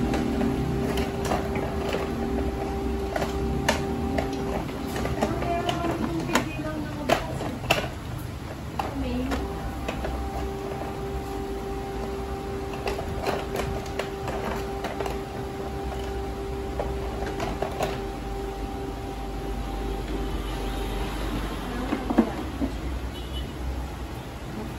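A Canon MP287 printer runs a deep cleaning cycle, giving off faint, irregular mechanical ticks, clicks and a low steady hum for about 25 seconds in a quiet room.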